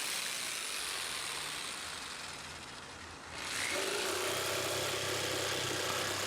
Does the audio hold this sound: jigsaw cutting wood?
yes